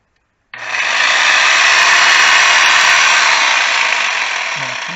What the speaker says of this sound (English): reciprocating saw